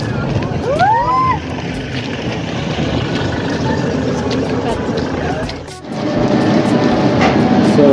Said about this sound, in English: Plus the wind guys, sobrang hangin dito guys.